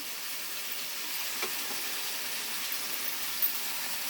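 Cabbage sizzling steadily in hot oil in a pan while cooking cabbage chorchori, a soft, even hiss with faint stirring clicks and no voices.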